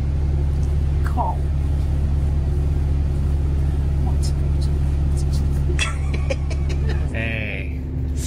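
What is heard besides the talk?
bus engine while riding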